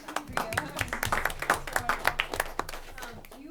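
At a school committee meeting, a small group claps for students, a few seconds of crisp, uneven hand claps at close range, with some talking mixed in.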